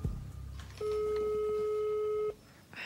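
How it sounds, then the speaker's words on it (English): An odd-sounding telephone ring on a call to someone abroad comes through as one long, steady, unbroken tone that starts and then cuts off cleanly, fairly quiet, with no one speaking. "Why is it ringing funny?"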